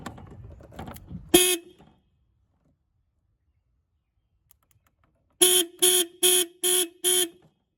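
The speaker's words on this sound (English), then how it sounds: "that's when the alarm or the horn was on full blare." Porsche Boxster horn alarm sounding from a repaired immobilizer alarm module: one short toot after some handling noise, then a pause, then five loud, evenly spaced beeps close by.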